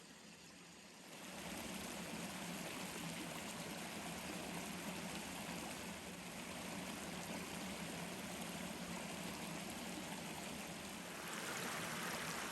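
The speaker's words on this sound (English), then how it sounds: "Cool water coming from a cave, a place to clear your mind in any season." Spring water flows out of a cave at Saunders Springs Nature Preserve in Radcliff, Kentucky, a steady, full rushing stream that rises after a quiet first second and then carries on evenly, with no voices.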